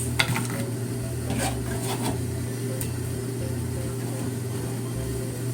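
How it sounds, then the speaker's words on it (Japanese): Carrots stir-fry in sesame oil with a continuous soft sizzle beneath a low background hum, broken by a few sharp utensil scrapes and taps near the start. "ごま油で人参は炒めます。"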